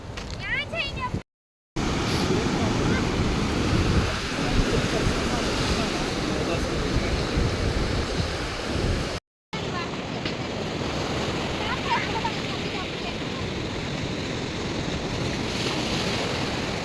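Ocean waves break on a beach in a steady, loud wash of surf with strong wind buffeting the microphone, broken by two brief silent gaps, with voices talking over it.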